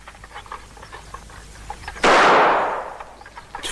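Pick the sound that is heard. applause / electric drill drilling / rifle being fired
rifle being fired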